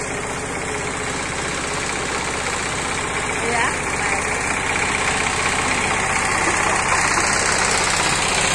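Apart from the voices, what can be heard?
tractor ploughing a field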